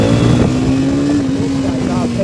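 A Bajaj Pulsar NS 200 motorcycle pulls away with a loud, steady engine drone that rises slightly as it accelerates, while a voice talks over it close to the microphone.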